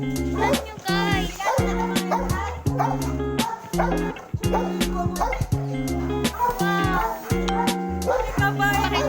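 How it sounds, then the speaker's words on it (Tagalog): Several dogs bark and yip repeatedly during an outdoor birthday gathering in Cavinti, Laguna, loud and close, with voices talking underneath and a strong musical backing throughout. "Madami pong aso dito."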